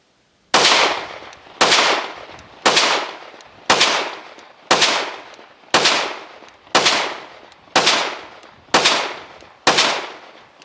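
A 5.7 pistol fires 40-grain rounds, about ten sharp, loud shots evenly spaced roughly one second apart, each with a short decaying echo.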